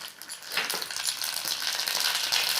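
Mustard seeds and asafoetida sizzling in hot oil for a dhokla tempering, a dense, close crackling hiss that grows slightly as the seeds start to pop.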